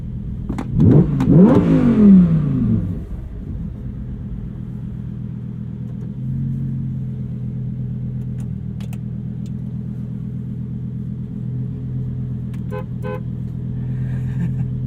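A Lamborghini Huracan Technica pulling away on the street, a loud close rev rising and falling over a couple of seconds, then a steady deep engine drone that carries on at an even level.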